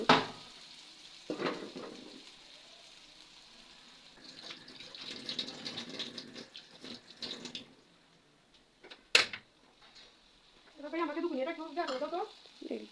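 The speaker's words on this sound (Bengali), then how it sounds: "এবার কুমড়ো শাক এগুলো চুলাই দিয়ে দিব" Pumpkin greens being added to a pan on a stove, with scattered clatter and stirring scrapes, soft sizzling, and a short burst of running water, all fairly quiet and close.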